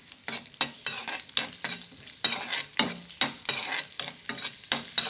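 Cashews and raisins fry together in a pan for a festival sweet, a steady sizzle broken by rhythmic spoon strokes roughly every half second, close and fairly loud, with no voices.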